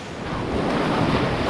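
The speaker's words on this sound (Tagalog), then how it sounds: "Malalaki talaga yung alon dito." Large sea waves breaking against a rocky shoreline in Linapacan, Palawan, heard as a loud, steady wash of surf, with wind buffeting the microphone throughout and no voices.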